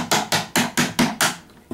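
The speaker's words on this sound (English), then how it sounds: "I'm going to use a nylon punch" Six sharp, evenly spaced taps of a nylon punch driving a bolt stop pin on a handgun frame, each a crisp close knock with a brief ring, the last one quieter.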